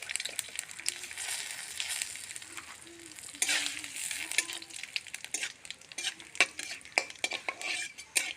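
Bay leaf and cumin seeds sizzle in hot oil in a home kitchen while a spoon stirs and scrapes the pan, with steady frying hiss and intermittent metallic clinks throughout.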